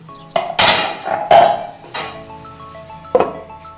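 Metal clanks and clinks sound as a lid is set over a pan of cabbage curry cooked with old Gobindobhog rice, with several sharp knocks followed by a brief ringing tone, close up and with no voices.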